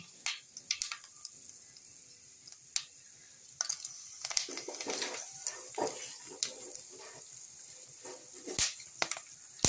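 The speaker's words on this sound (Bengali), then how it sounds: "আমি ওই কড়াইতে একটু কালো জিরে ফোড়ন দিচ্ছি।" Black cumin seeds and dried chili crackle and spit in hot oil in a wok, with sharp scattered pops and light scraping over a soft background sizzle, close and fairly quiet.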